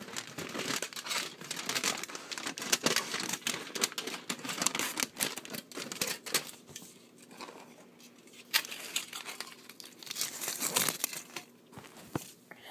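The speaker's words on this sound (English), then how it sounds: "this is like extra long tin foil for some reason" Extra-long tin foil is handled and crinkled close up, with bursts of crackling and rustling that come in uneven waves, pause briefly, then start again, fairly quiet overall.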